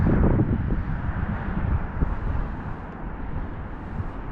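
Cold northerly wind buffeting a microphone on the coast while lure fishing for bass, a rough low rumbling roar that swells and eases in gusts, loud and close, with no talking.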